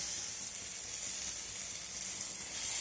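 Ginger paste going into tomatoes already frying in a pan for a bitter gourd and potato dish, producing a soft, even sizzle and faint hiss throughout, fairly quiet and with no voices.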